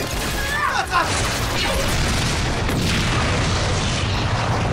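A bomb explosion in a children's action series, heard as a sustained, loud, dense rumbling roar that fills the whole stretch with no pauses.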